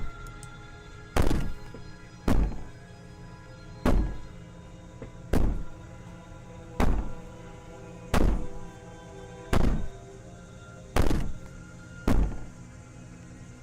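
Heavy, evenly spaced booming bangs from Slay the Princess, about nine loud thuds roughly every second and a half, each with a short ringing decay over a low background hum.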